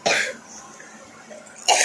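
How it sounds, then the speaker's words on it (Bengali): A person gives two loud, sharp coughs at night, one at the start and one near the end, with quiet room noise between them. "আমার যা কাশি কমছেই না"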